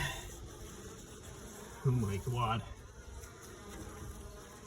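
A steady buzzing drone of many bees in an attic fills the background, with a brief exclaimed voice partway through.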